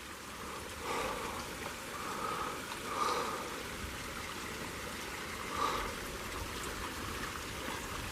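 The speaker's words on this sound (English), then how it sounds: "it is completely collapsed with water just gushing out of a hole" Water gushing out of a hole in a collapsed abandoned mine at the Queen City Mining Camp, a steady rushing, splashing flow with a few brighter surges, fairly close and without talk.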